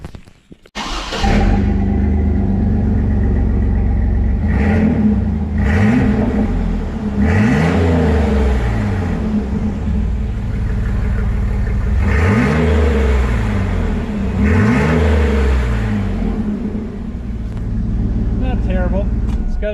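A stock 4.3 V6 in a 2003 Chevy S10 with 269,000 miles, running straight-piped with no muffler, idles with a loud, close rumble and gives several sharp revs that rise and fall. Voices talk over it.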